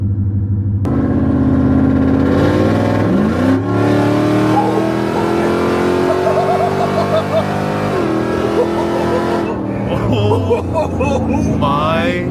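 A straight-piped Demon Jeep exhaust revs loudly and close, rising and falling through several throttle blips with a harsh, booming tone that dominates throughout.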